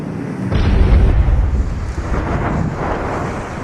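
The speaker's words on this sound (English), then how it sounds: "Ecco un'altra bomba." A bomb explodes during an air attack in Libya, roughly 300 to 400 metres away: a loud, sustained low rumbling boom with wind buffeting, rolling on for several seconds with no talk.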